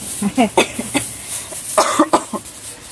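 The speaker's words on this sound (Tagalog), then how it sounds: "Nakikita ka nila nakaubo-ubo ka." Someone coughs repeatedly in short bursts, close by, with a few brief vocal sounds mixed in.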